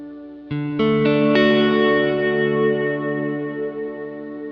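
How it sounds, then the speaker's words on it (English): Electric guitar played through a Kurzweil KSP8 rack unit on its Dreamverb reverb preset: four quick strummed chords build into one sustained sound that fades slowly in a long, shimmering tail, loud and unaccompanied. "Here's the Dreamverb actually as it is. This is the preset."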